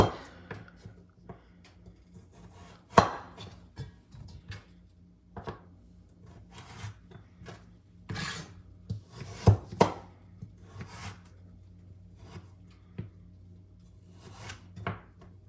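A knife cuts carrot sticks on a board, giving scattered sharp chops and taps at an uneven pace with some louder clusters, close up and with no talking.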